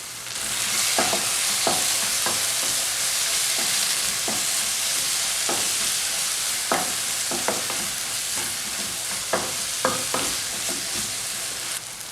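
Tomato-based masala for mushroom masala sautéing in a pan, a steady broadband sizzle with frequent sharp spoon scrapes and stirring clicks scattered throughout, close and continuous with no talk.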